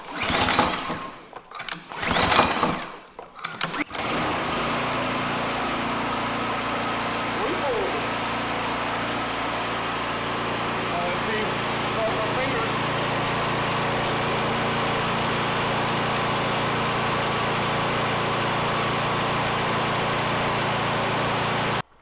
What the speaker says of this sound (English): So let's see if it starts. First start, here we go.